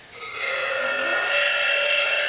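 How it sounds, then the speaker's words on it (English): A long, drawn-out burp after drinking wine, loud and close, holding steady for about two seconds with no talking. "This is like burping wine."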